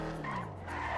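Car tires skid and squeal as a vehicle drifts in the GTA V video game, a brief continuous screech with engine tone underneath.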